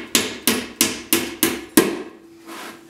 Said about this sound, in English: And then just sink that with your hammer.